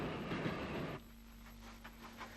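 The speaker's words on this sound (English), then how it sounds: "The same locomotive heading a local which omitted some stops speeds through Finnehy on a thoroughly miserable day." A steam locomotive hauling a local passenger train speeds through a station on an Irish railway in Ulster on a miserable wet day, a loud rushing roar cutting off to a steadier rumble and rattle with no talk.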